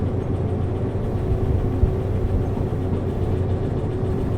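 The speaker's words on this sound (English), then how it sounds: "when you're revving the engine, it gets a little too loud" A locomotive engine revs loudly in the train simulator game Derail Valley, a steady, dense mechanical drone that holds at an even level throughout with no pauses and no voices.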